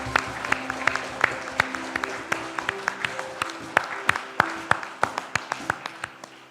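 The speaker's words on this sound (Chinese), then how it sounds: "用最大的掌声归荣光给咱的主" A church congregation at a Taiwanese-language Sunday service breaks into sustained applause, dense overlapping claps with sharp accents, close and lively for several seconds without pause.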